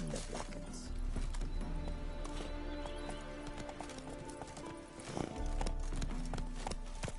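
Hooves of Roach, the horse in The Witcher 3, clip-clop steadily at a gallop, close and loud over a busy layer of game music and ambient sound, with a brief dip near the five-second mark before the pounding resumes.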